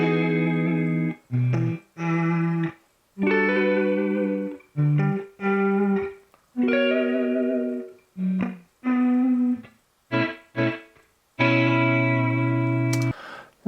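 A sustained synth or guitar tone with reverb plays in repeated phrases, each note swelling in and cutting off via automated volume swells, with short silent gaps between the pulsing swells.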